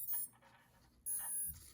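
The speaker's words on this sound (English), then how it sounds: "it should make the beeping again" Two short bursts of high electronic beeping from an electronic speed controller powering up a supercapacitor-powered jet turbine fan, separated by a brief pause, sound close by with faint mechanical noise underneath.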